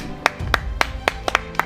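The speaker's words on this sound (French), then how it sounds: "S'il vous plaît, un maximum d'applaudissements." A few scattered hand claps at a pétanque tournament prize-giving on a campsite, roughly six sharp separate claps over a low rumbling background rather than full applause.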